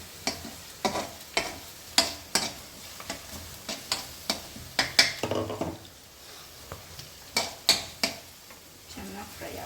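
Garlic, egg and rice being fried in a pan with chili powder, stirred in a quick run of scraping, clattering strokes over a constant sizzle, close and fairly loud, with no one talking.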